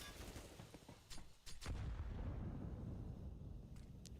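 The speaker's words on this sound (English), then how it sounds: "There's the nades towards A." Grenades go off during a pro Counter-Strike match as a few faint, muffled booms and cracks, followed by a low rumble.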